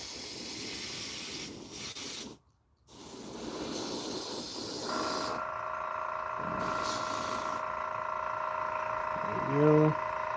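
Air compressor running with an air gun spraying paint onto fishing lures, a steady broad hiss broken by a brief pause, with a sustained tonal hum entering partway and speech underneath.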